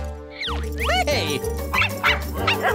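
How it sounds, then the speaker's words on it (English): Several quick, high yapping barks from small cartoon dogs over bouncy background music, coming in short bursts one after another. "Runaway dogs!"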